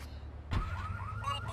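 Car alarm in GTA 3 Definitive Edition, a sharp thud followed by a repeating wailing electronic alarm tone cycling up and down, loud and close.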